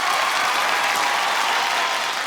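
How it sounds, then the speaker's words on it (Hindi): Loud, dense applause from a studio audience at the Hindi comedy competition show Khatra Khatra Khatra, a continuous roar of clapping that fills the whole moment without any voices over it. "तालियां"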